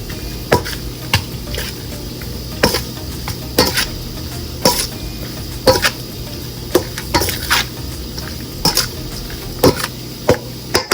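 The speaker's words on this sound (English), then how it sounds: "Give us a good stir" Seafood pasta being stirred in a pot, with repeated clanks of a utensil against the metal and a soft wet swishing, steady and close, with no talk.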